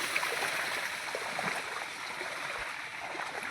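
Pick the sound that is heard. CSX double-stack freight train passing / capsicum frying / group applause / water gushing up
water gushing up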